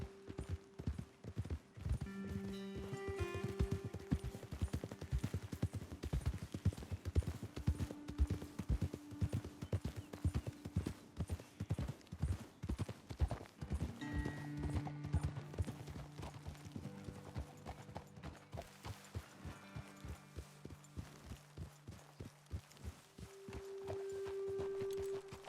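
Horses' hooves clip-clop steadily in Red Dead Redemption 2, a rhythmic walking gait that carries through the whole stretch, with occasional snorts and a musical score layered underneath.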